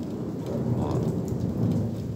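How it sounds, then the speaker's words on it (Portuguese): Heavy rain pours steadily during a thunderstorm in Porto Alegre, with a thunder rumble from a lightning strike to the south rolling under the downpour; dense, continuous and fairly close, no voices. "esse foi o raio que deu pro sul, o trovão que veio agora"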